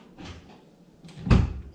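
A convertible Nissan 350Z door opening after a new handle has been fitted: a faint latch click, then a louder close-range thunk near the end as the door releases and swings.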